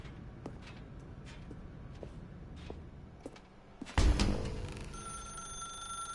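A telephone rings in The Stanley Parable, a loud electronic bell that cuts in abruptly partway through and sustains over a quiet ambient room tone, with faint footstep-like taps before it.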